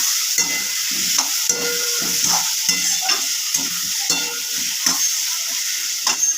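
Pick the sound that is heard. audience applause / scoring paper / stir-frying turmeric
stir-frying turmeric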